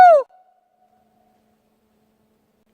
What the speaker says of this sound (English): There's actually some sick echo here.